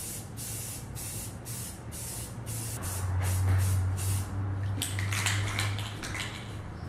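A base coat sprayed from a can onto ceramics: a quick series of short hissing bursts, then a longer, steadier spray, close and clear with no talk.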